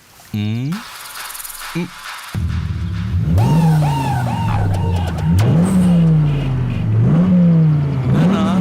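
A car engine revs up and down in repeated surges, loud and close, with a brief squeal at the start.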